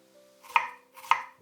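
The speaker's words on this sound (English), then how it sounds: "Mince 100 grams of shallots." A knife minces shallots on a board with two crisp, evenly spaced chops, close and fairly quiet, alone with no talk.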